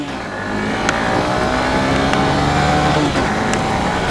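A 125cc motorcycle engine (Honda SP125 or Hero Super Splendor 125 Xtec) at full throttle, a loud, sustained droning roar with a steady rising pitch and wind rush throughout.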